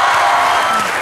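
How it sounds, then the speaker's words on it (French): Studio audience on a French TV show applauds as a choreographer is welcomed, a dense steady wash of clapping heard close and loud throughout the short moment. "Je vous demande d'applaudir le chorégraphe"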